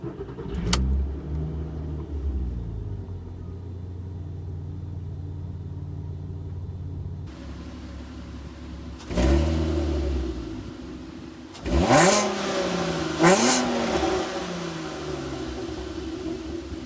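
A car engine idles with a steady low rumble, then revs up a few times in short bursts before settling back to idle.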